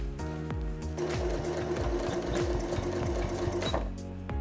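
A sewing machine stitches close by without pause for several seconds, joining the gusset of a circle bag. It makes a steady, rapid mechanical chatter with light clicks and no talking.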